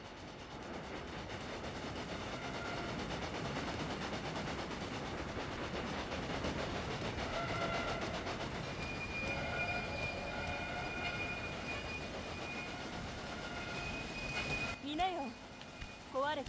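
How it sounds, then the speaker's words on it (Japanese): A steady rumbling train in the video game Railway Empire runs continuously with a rhythmic rolling noise, rising slightly in the middle, then a few short squeals and clatters near the end. "列車があるみたい。"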